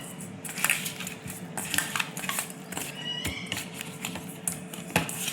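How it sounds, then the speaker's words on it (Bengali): A knife chopping onions on a board in a kitchen while fish fries, with irregular close cutting taps and clinks over a steady background hiss of frying oil, no talking. "মাছটা ভাজতে বসিয়ে দিয়ে পেঁয়াজ কেটে নেব"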